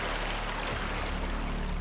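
A waterfall in the video game Excalibur Morgana's Revenge makes a loud, steady rushing roar that holds constant and fills the short stretch, with no talk over it.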